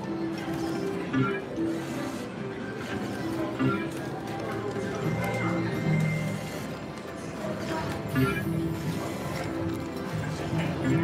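Steady clip-clop of horse hooves within a busy jingling slot-machine soundtrack during $100 spins, with music and electronic effects running throughout.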